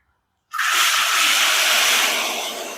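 Water gushes into a container after a brief silence, a loud, steady hissing pour that continues evenly, then tapers slightly toward the end.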